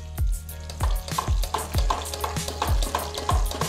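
Frying bacon crackles and sizzles steadily in a pan while a metal skimmer scrapes and lifts it out, with repeated dull scooping knocks roughly every half second, close and fairly loud, no talking.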